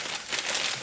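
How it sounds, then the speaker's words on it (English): Plastic bag crinkling and rustling close up as tape is wrapped and sealed inside it to keep air out, a continuous dry crackling texture with a slight swell midway. "So put it in a plastic bag, so this tape is protected from air"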